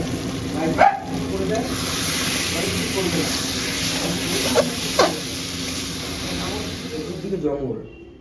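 Duck egg and potato curry sizzles steadily in a pan, a dense frying hiss with a few sharper clinks of stirring, close up and ending as the heat is cut.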